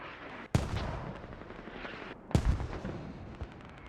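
Two heavy mortar impacts in a military video game, booming loud at about half a second and again near 2.3 seconds, each followed by a rumbling tail over constant battlefield noise.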